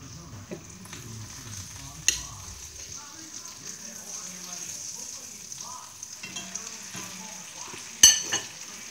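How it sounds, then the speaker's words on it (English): Chicken sizzles steadily in a hot skillet, with occasional clinks and scrapes of a utensil and someone talking underneath. "put this back into the skillet. It's still a little bit hot. It's going to sizzle just a bit."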